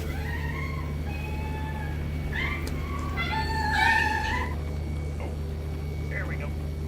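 Cat meowing indoors over a steady low hum, several short rising and falling meows spread across the clip with a louder cluster near the middle, and background game sounds.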